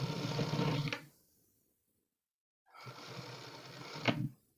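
A sewing machine with a normal presser foot stitches thread piping onto a blouse neck in two close, steady bursts of rapid mechanical whirring separated by a short pause.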